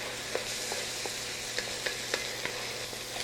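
A tablespoon of garlic sizzles in a pan for Bolognese meat sauce, making a dense, even frying hiss close by, broken by regular light stirring taps roughly every half second.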